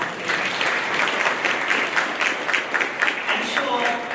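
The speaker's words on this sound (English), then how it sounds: "Ladies and gentlemen, an applause for my panelists up here." Conference audience applauding panelists, a dense steady patter of many hands clapping throughout, filling the room evenly from start to finish.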